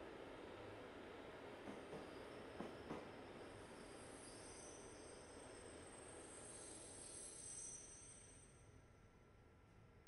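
Passenger and mail train in the Train Life railway simulator game, London to Calais, rumbling faintly and steadily with a few wheel clicks and a thin high squeal, no talk.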